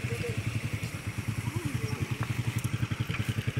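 A motorcycle engine on an outdoor Bukidnon outing, close and steady with a rapid, evenly pulsing putter and a light mechanical clatter throughout.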